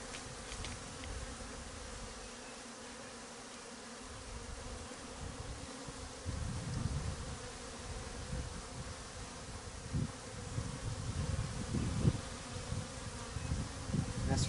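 Honey bees buzz in a dense, continuous drone during a hive inspection, close and fairly quiet, swelling slightly with a few stronger surges and no voices.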